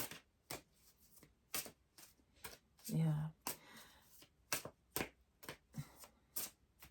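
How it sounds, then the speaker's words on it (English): Tarot cards being shuffled in repeated crisp riffles, each a quick papery burst, with a brief spoken word in the middle. "And I like to do at least 2 cards, so I'm gonna keep shuffling for one more."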